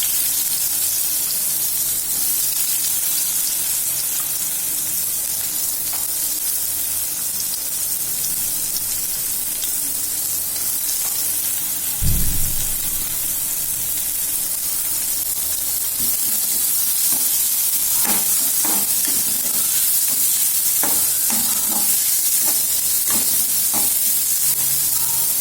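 Chopped onion sizzles and fries in hot oil with fennel in a kadai, giving a steady, close hiss throughout, with a brief low thump near the middle and scattered stirring clinks later on.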